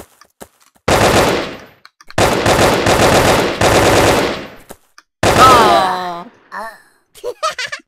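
Light machine gun fire in the Brick Force shooter game: three long sustained automatic bursts separated by short pauses, loud and close, followed by a ringing, descending tone and brief clattering effects.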